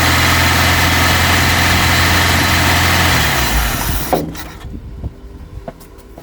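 A Vauxhall Cavalier MK2 carburettor engine revs at a steady, high drone, then cuts off abruptly, leaving faint clicks and quiet rattles close by.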